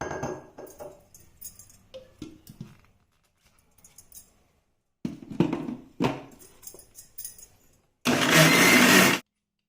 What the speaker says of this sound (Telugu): మళ్ళీ ఒకసారి ఒక గ్లాస్ వాటర్ యాడ్ చేసేసి మిక్సీకి వేసుకుంటాను